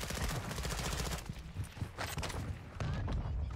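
Gunfire in the Warzone video game: dense, rapid bursts of shots, like automatic weapons, rattle on close and loud almost without pause for the whole stretch.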